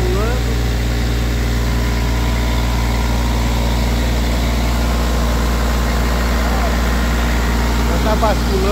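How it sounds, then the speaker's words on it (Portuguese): Dump truck engine running steadily while tipping corn into a silo bag on a Mato Grosso farm, a loud constant low drone that fills the whole stretch, with faint higher whines over it. "Aqui está o caminhão. Descarrega,"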